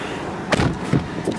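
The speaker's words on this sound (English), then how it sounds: "Close the door." A car door on a 2015 Ford Mustang Roush Stage 1 shuts with a short, solid slam close by, followed by a lighter thump.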